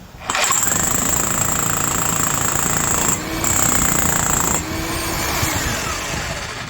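A Vevor 2-inch (50mm) heavy-duty SDS-Max rotary hammer drills loudly with a steady, pounding roar and a high whine, pausing briefly midway before resuming, close and continuous.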